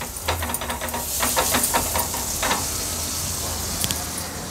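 Butter sizzling on a hot pan before a maida chapati goes on for a prawn frankie, a steady close hiss with scattered crackling pops and no talk.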